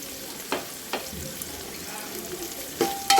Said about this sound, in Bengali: সুন্দর করে এটাকে ভুনতে হবে যতক্ষণটা পেঁয়াজটা লাল লাল হচ্ছে